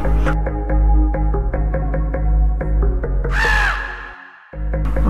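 A crow caws over steady background music in an animated story, the harsh call rising briefly near the end against a sustained musical drone.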